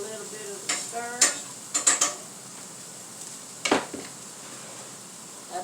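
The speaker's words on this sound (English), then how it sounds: "We're going to toss these in there. Give them a little bit of a stir." Chopped potatoes stirred in a heated pan, with scattered scrapes and clinks of a utensil against the pan and a few louder scraping strokes over a faint background.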